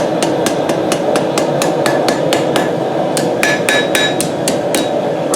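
Hammer forging a lion knife blade on an anvil, rapid ringing metallic strikes in a fast steady rhythm, loud and close, with a short pause midway before the blows resume.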